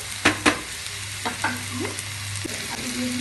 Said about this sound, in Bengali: পেঁয়াজ কুচিটা ভালো করে নেড়ে নিচ্ছি যাতে একটু তাড়াতাড়ি ভাজা হয়ে যায়